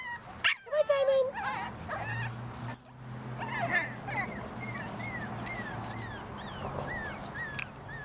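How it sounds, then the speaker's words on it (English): A puppy whimpers and yips in high, wavering bursts, interspersed with cat-like cries, over a steady low background hum, fairly close. "That's Tank, that's Ivy's puppy."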